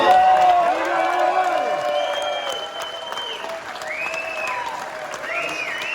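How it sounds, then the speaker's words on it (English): An audience at an Olympic Club Hall of Fame induction applauds handball player Al Sandoval, loud clapping mixed with cheers and rising whoops that fades slightly toward the end. "Can I get a warm round of applause for the handball king, Al Sandoval?"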